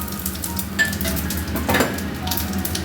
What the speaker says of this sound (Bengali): আমি একটু জিরে আর তেজপাতা ফোড়ন দিয়ে দিলাম